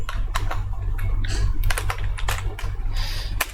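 Java code typed on a computer keyboard, loud close clacking keystrokes in quick bursts over a steady low hum, no speech.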